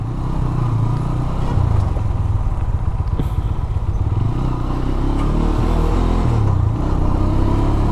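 A GPX Demon GR 165 RR motorcycle is ridden through city streets, its engine droning loud and close with steady revs and road clatter, and no talk.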